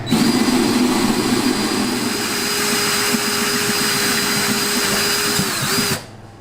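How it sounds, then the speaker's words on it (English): A next-door gasoline generator drones steadily with a loud, even engine whine before cutting off abruptly near the end. "The generator you're hearing in the background, by the way, is our next-door neighbors."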